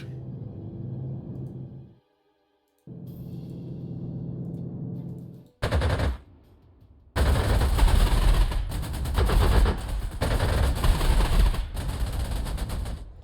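Heavy gunfire attacks a bomber in the wartime strategy game Panzer Corps 2: a low rumbling passage and a short silence give way to loud, sustained bursts of rapid shots that run to the end.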